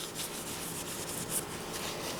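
A rag soaked in brake cleaner is rubbed over greasy brake caliper pins from a 2011 Toyota Sienna, giving a quiet, rapid scrubbing swish repeated in short strokes.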